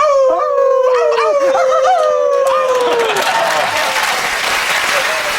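A person imitates a wolf howl with long, wavering, rising and falling cries that slide downward, followed by loud audience applause that swells and fills the rest of the clip.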